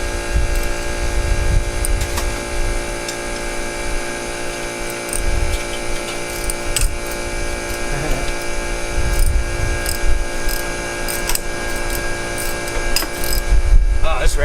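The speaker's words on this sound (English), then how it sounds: "this ratchet is gnarly, bruh." Ratchet being worked on a 2006 Jeep Grand Cherokee 5.7L driveshaft, with intermittent clicking over a steady mechanical hum and background noise.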